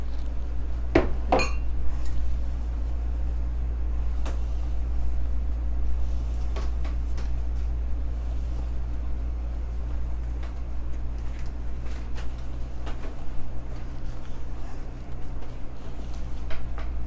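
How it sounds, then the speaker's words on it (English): A spoon scrapes and clinks in a pot while oats are stirred into a melted peanut butter mixture for no-bake cookies. A steady low hum runs underneath, with a few sharper taps spaced apart. "Keep stirring. You want to make sure all the oats get covered with the mixture."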